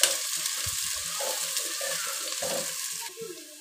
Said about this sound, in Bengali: তো পেঁয়াজটাকে আমি লাল লাল করে ভেজে নেবো